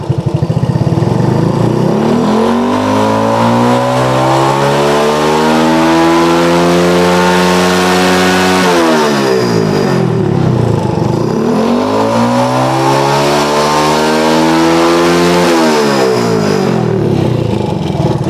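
A motorcycle engine with DC ignition and a sputtering fault is revved hard to full throttle twice. Each time it climbs loudly and steadily, holds, then drops back to idle, close to the microphone with no talking.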